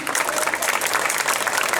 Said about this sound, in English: Can I hear some clapping, please?